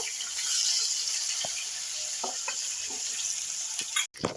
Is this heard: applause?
no